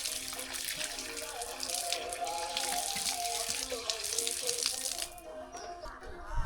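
Cold waterfall water on the way to Chandragiri hills flows in a steady, soft rushing stream, fairly quiet and close, with faint background voices, then thins out near the end.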